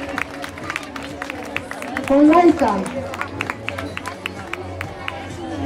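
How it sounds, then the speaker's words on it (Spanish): Crowd applause breaks out at an indoor pet contest for a 12-year-old German shepherd, with scattered sharp claps rising under a presenter's voice over a loudspeaker and general murmur. "hay que darle un fuerte aplauso"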